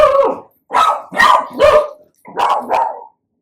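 Dogs barking in a quick run of five loud, close barks with short gaps between them, heard alone without any talking.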